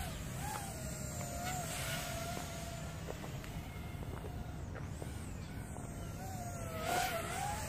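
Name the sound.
FPV drone flying with Nazgul T3061 tri-blade propellers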